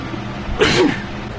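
A single sharp sneeze bursts out, loud and close, with a brief voiced onset followed by a breathy hiss that quickly fades.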